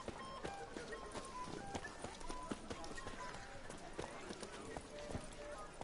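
Horse hooves clip-clop in an irregular run of sharp knocks, fairly faint and mixed with background voices talking.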